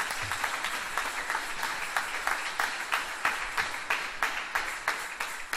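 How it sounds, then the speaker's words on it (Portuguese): A church congregation claps together in a steady, continuous patter of many hands, moderately loud and even throughout, with no talk over it. "Pode aplaudir a Jesus Cristo."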